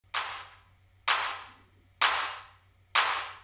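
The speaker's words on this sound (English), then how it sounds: "We have a clap sound on this track" A clap sample in a mix, run through a vintage compressor, strikes four times at an even pace, each hit sharp and bright with a short decaying tail over a faint low hum.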